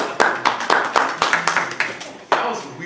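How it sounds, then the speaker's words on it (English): Sparse, weak clapping from a small panel audience at a retro convention, a handful of distinct close claps in uneven rhythm that quickly fade. "That was a weak ass applause for my friend"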